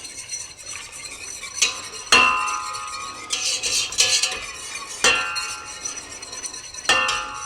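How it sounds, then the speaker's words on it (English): Mop sauce for smoked pulled pork is stirred in a pot, with a utensil scraping and clinking against the metal in several sharp knocks between softer swirling strokes. "I'm going to give this a quick stir"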